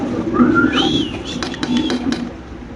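Fancy pigeons make a short, close cooing and whistling call that rises and falls in pitch over a low murmur.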